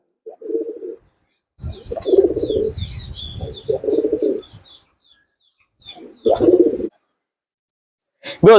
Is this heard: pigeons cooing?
yes